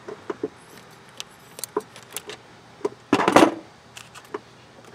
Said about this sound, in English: we'll open up that package and see what we got